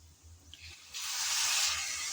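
Pre-boiled bathua greens tipped into a pan of frying potatoes, onion and garlic; quiet at first, then a sudden steady sizzling hiss swells up and holds, close by and with no talk.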